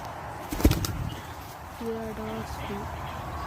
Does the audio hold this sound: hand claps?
no